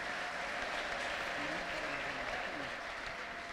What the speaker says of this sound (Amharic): አጨብጭቡ እስቲ ለጌታ ክብር